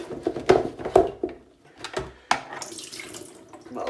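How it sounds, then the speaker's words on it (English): Tap water runs over a Shark vacuum filter being rinsed clean in a sink, splashing unevenly in several loud bursts and surges as the filter is moved under the stream, with quieter gaps between them. "I got most of the muck out by just literally just rinsing it under the water."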